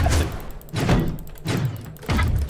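Cannon fire in a video game: three heavy, booming shots at a steady pace, each a loud thud with a short rumbling tail, close and clear.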